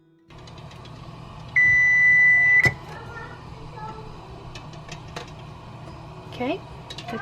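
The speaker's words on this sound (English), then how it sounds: "the timer just went off" A kitchen timer sounds a single steady electronic tone lasting about a second, heard close by amid faint kitchen background noise.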